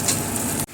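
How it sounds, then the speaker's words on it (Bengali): Ash gourd pieces fry in a pan, a short burst of continuous close sizzling that cuts off abruptly at the end. "একটু ভাজা হোক"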